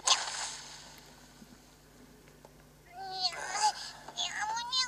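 A cat meowing in the video game Monster Hunter Stories, a few rising, nasal meows near the end after a quieter stretch with faint background ambience.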